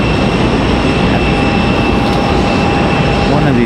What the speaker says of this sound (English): So there's our A321